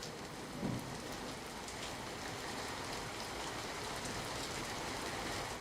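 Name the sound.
heavy rain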